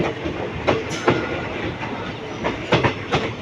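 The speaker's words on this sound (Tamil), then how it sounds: "சவுண்டு பாருங்கள் இன்ஜினோட சவுண்டு எவ்வளோ சூப்பராக இருக்குன்ட்டு" A diesel train rolling along rails between Madurai and Rameswaram, with rhythmic clattering thumps and a steady rumbling engine drone, heard up close with no talking.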